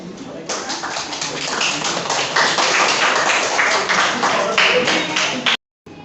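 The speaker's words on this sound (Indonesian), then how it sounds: "Minta tepuk tangannya dong" Classroom applause for three students about to tell the history of Bung Tomo: dense, steady clapping from many hands for about five seconds, then it cuts off abruptly.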